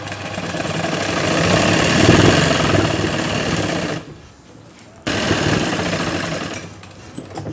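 Sewing machine stitching net fabric for a Padmavati Ghoomar bridal lehenga, a steady close-up motor whir with one brief pause before it runs again.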